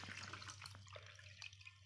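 Water pours steadily into a measuring container to reach 500 ml for a detergent solution in a school science experiment, with a splashy, uneven trickle heard close up and alone.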